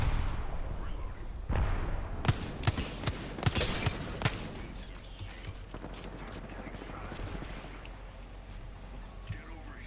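Gunfire and reloading in Apex Legends: a handful of sharp, loud shots crack out in quick succession, then lighter mechanical clicks and scattered pops trail off, with a voice talking over the action throughout.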